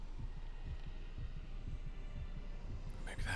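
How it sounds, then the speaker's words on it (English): A heartbeat monitor fed into the audio in Dead Space gives a faint, steady low throbbing pulse of soft repeated beats under a hum, quiet and distant, with a brief rustle at the end. "It's kind of her to put her heartbeat monitor into the audio feed."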